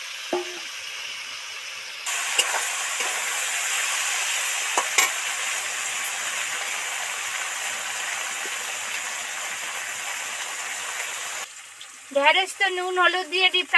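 Okra deep frying with salt and turmeric sizzles in hot oil as a steady hiss with a few stirring knocks, then cuts to a brief quieter stretch with a voice at the end.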